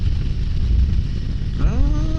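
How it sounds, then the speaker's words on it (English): Wind rushing past a rider on a 2023 Harley-Davidson Road Glide Special at highway speed, a steady low roar mixed with engine drone, with a rising engine tone near the end. "I can hear the wind, but it's not deafening like on some of them."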